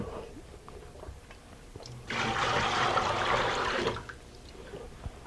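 Rinse water pours off sushi rice in a rushing burst lasting about two seconds, with quiet handling sounds before and after.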